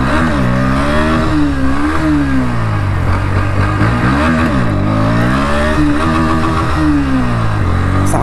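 A 2024 Bajaj Pulsar NS125 motorcycle engine drones loudly while being ridden on an open road, its pitch rising and falling through repeated revs and gear changes, continuous and close.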